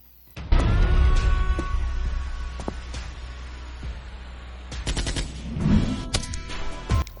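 Rapid bursts of cartoon gunfire in an animated fight scene, loud and close, a dense volley up front thinning into scattered shots and a final crack, with no talking.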